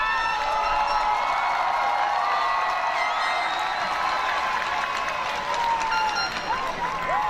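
At a 2018 school commencement, a large crowd applauds the parents with sustained clapping and scattered cheers and whistles, a dense steady roar that never stops through the whole stretch.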